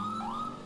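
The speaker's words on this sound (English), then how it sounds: "this is the Wheeling Epison siren" A Wheeling Epison police siren from the video game GTA IV gives a short, loud, high-pitched wail that rises and holds with no talk over it.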